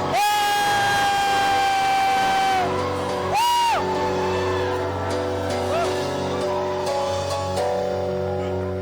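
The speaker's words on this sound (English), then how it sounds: "Give them another shout of praise." Church congregation in Mumbai, India, shouting and whooping praise in a loud, sustained crowd roar, with a rising cry and scattered yells over dense crowd noise.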